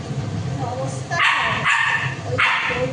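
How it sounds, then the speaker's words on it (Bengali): A dog barks a few times close by, agitated over mangoes, in short sharp yelps over a noisy household background. "ওই দেখো চিল্লাচ্ছে, আমের জন্য চিল্লাচ্ছে"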